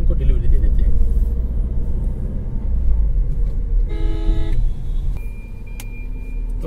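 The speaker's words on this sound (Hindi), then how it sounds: "इसके लिए हम एक छोटा सा टेस्ट ड्राइव ले रहे हैं" A Tata Harrier on a test drive after a general service, with steady road rumble from inside the cabin and a car horn tooting a few times near the middle over the drone, while a voice speaks over it.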